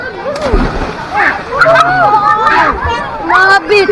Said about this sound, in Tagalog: tuloy-tuloy yung agos ng tubig